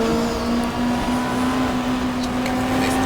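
Racing cars in the GTR2 video game circle the Lakeside circuit in an Australian Super Touring round, with a loud, steady engine drone holding a high pitch that shifts slightly, and faint distant clicks over it.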